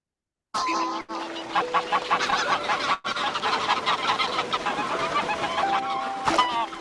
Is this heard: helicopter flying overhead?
no